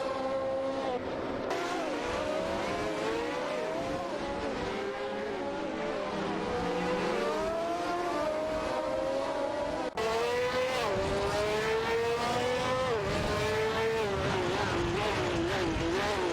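Race cars in a racing game roar continuously along the track, several engines overlapping with rising and falling pitch as they jockey for position, loud and steady throughout with no speech.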